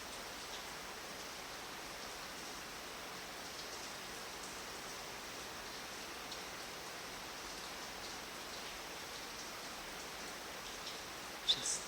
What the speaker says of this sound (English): Just let it rain.